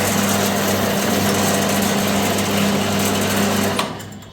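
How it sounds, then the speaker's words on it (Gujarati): A soda bottle washing machine runs with a loud, steady mechanical whir and a constant low hum, continuous and close, then cuts off near the end. "આ થોડો ધોવાનું મશીન છે"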